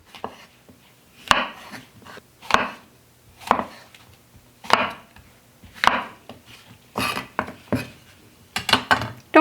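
A knife chopping small mushrooms into quarters on a cutting board, about eight distinct close cuts at a slow, fairly even pace, each a crisp knock against the board.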